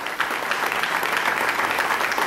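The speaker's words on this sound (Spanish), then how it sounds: "brindémosle calurosos aplausos" Applause rises from the audience at a civic ceremony in Papantla, a dense, steady patter of many hands without pause for a couple of seconds.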